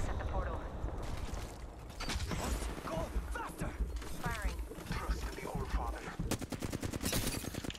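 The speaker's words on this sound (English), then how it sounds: "You're getting shot in the back here." Video game gunfire fired at a player from behind, heard as repeated bursts and a fast rattling string of shots near the end, with mechanical clicks and talk mixed in throughout.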